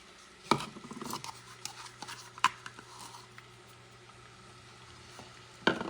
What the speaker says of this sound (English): I'm going to start heating up this baby with the onions. And the peppers.